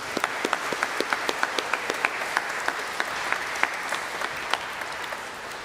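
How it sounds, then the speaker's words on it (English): Scattered applause from a small school speech-day audience, light clapping with distinct individual claps continuing steadily throughout. "So we'll just give Michael Jerome a round of applause."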